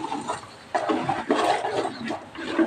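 Water pours and splashes steadily into a pot of okra kuzhambu close by, gurgling unevenly for a few seconds with no one speaking.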